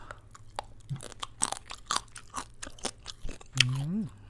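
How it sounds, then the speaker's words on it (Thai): Fried quail bones crunching between the teeth during chewing, a string of close, sharp crackly bites with soft mouth noises and someone speaking between them. "ฟังเสียงกระดูกนะครับ"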